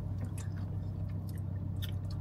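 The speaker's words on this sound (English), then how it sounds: "Who the fuck is chewing gum?" Someone chewing gum close by, soft wet squishing and smacking at an irregular pace over a low steady background hum, fairly quiet.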